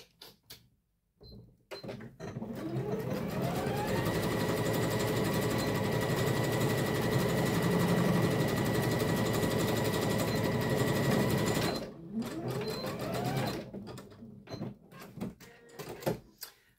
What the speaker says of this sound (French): je vais faire un petit zigzag pour assembler mes deux élastiques